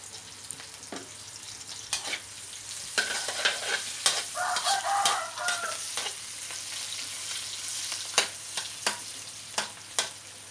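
Pork, shallots and chili stir-fried in a pan with fern shoots, giving a steady sizzle with scattered sharp clatters of the utensil against the pan. A rooster crows faintly in the distance partway through.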